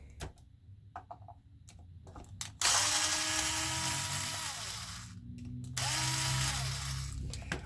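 A power tool drives out the motor screws on a Traxxas Maxx 4S RC truck, starting with a few sharp clicks and taps, then a close, loud whirring drill burst that runs for several seconds, pauses briefly, and starts again.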